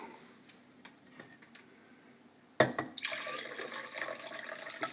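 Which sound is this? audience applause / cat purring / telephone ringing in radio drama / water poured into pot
water poured into pot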